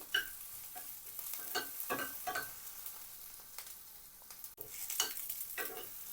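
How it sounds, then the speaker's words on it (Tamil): Dried red chillies sauté in a pan at low volume, with soft, uneven frying crackle and repeated spatula scrapes in irregular bursts. "இப்போ இதெல்லாம் சேர்ந்து ஓரளவு வதங்கி வரட்டும்"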